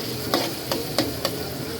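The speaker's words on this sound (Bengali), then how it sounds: "এই মুহূর্তে তো ডিম দিয়ে নাড়াচাড়া করি" Egg is stirred in a frying pan over a low flame in a home kitchen: four evenly spaced scraping strokes over a steady soft sizzle, close and clear, with no talk.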